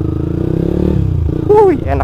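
A Yamaha Vixion motorcycle being ridden, its engine humming steadily up close with a low droning tone, a short rising whine near the end as it revs; a voice speaks over the engine.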